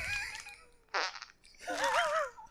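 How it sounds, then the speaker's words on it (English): A short fart pushed into a bucket, one brief burst standing out between bursts of excited talk and laughter from nearby people. "Michael's going to bucket his fart."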